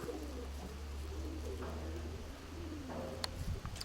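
A pigeon coos and settles into place beside its pair, soft throaty calls rising a few times over a steady low hum in a loft.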